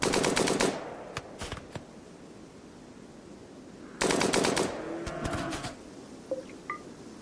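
Gunfire from a sniper rifle and other weapons in the colony-building game RimWorld, two loud rapid bursts of shots several seconds apart, with scattered lighter game sound effects between and after them.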